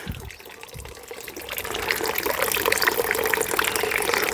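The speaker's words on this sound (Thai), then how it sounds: "พอเรามาทดลองต่อกับตัวพญานาคพ่นน้ำก็ ให้น้ำที่แรง ใช้ได้เลย" Small solar-powered fountain pump spraying water from a naga-statue fountain, giving a steady close splashing and gushing that grows louder and fuller after the first second and then stays constant.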